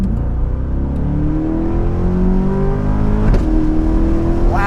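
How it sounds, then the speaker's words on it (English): A 2024 Corvette E-Ray with a wide body kit, driven in Southern California, revs hard and close, its engine tone climbing steadily in pitch with one brief shift-like break partway through. "Getting a feel for the Corvette E-Ray out here."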